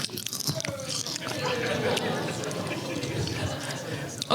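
Crunchy cricket snack, flavoured like sour cream and onion or bacon and cheese, being bitten and chewed close up, with repeated crisp crunches running under people chatting nearby.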